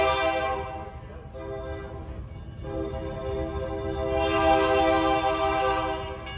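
A Granite State Scenic Railway train rolls along street-side tracks, with a steady loud rumble and a drawn-out horn blast that swells near the end, heard from on board.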